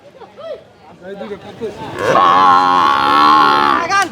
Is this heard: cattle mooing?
yes